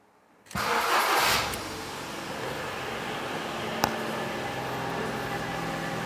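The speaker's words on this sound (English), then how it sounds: "now let's start the car." A wrecked Ford Fiesta under rebuild cranks and fires into life close by, then settles into a steady idle with a single sharp click partway through.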